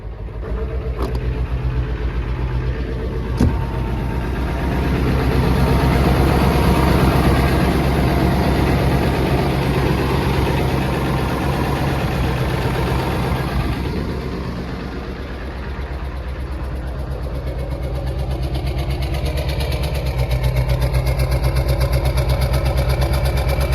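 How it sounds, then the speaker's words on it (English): A Ford 7.3 Powerstroke diesel engine with about 740,000 miles runs at high idle, a loud, steady low rumble that continues with only a brief dip in level partway through. "Let's go ahead and kick it into high idle."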